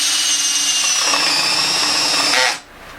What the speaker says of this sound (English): I've got my 5/8 inch bit with my Makita, and the wood is relatively hard